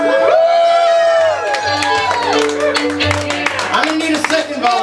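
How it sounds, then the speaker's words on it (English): A live carnival-style show crowd claps, whoops and cheers for a volunteer, loud and close, with excited voices rising over scattered clapping and a steady low hum. "Give Charm a big round of applause."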